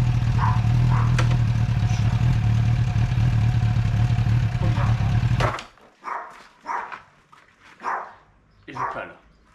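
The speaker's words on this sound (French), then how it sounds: "je mets la première, la moto cale" A motorcycle engine idles steadily and loud, then cuts out abruptly as first gear goes in, leaving near silence broken by a few short quiet sounds. The bike has a faulty kickstand safety switch.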